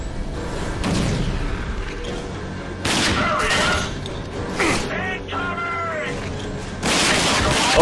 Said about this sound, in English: I'm gonna go in and shoot the shit out of you with a shotgun